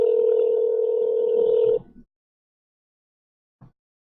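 A steady telephone tone sounds for nearly two seconds as a call is placed, cuts off, and after a silent pause one short low ringing burst follows.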